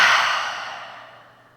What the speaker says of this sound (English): And a full breath out.